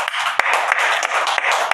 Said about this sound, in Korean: 우리 이렇게 하신 하나님께 영광의 박수 하겠습니다